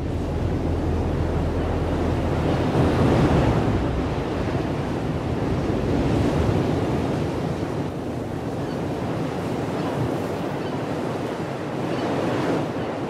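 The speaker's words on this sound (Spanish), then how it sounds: "Los fuertes vientos que empujan toneladas de agua hacia las rompientes" Strong wind drives heavy waves onto the shores of Galicia's Atlantic islands, a loud continuous roar of surf rising and falling in broad swells with buffeting wind, and no voices.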